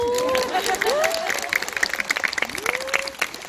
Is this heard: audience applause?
yes